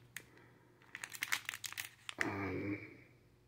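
A plastic bag holding embroidered patches crinkles and rustles up close in quick bursts, ending in a longer crumpling rustle, faint and alone without talk.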